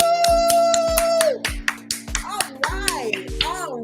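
Real hand claps from a few people at a Married to Medicine movie night recap event, a series of sharp claps spaced through the clip, ringing against a sustained tone and voices talking over them.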